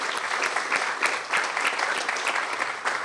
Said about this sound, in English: another round of applause for all of our partners and vendors who are here today with us